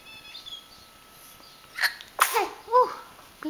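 A baby sneezes in a vibrating chair in a garden, a quiet close sneeze with a couple of small hiccup-like squeaks following, otherwise calm and quiet.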